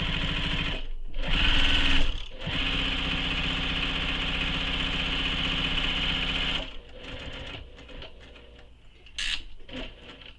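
A sewing machine stitches a tote bag with long tails left at start and stop and no backstitching, running steadily and loud for most of the stretch, then slowing into a few short bursts near the end.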